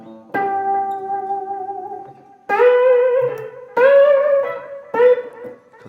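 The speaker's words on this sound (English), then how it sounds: "Then I have an echo that repeats that I can time." Electric guitar played through a Line 6 M13 with a timed repeating echo, sustained notes and phrases ringing out and trailing off in spaced repeats, loud and close with no talking.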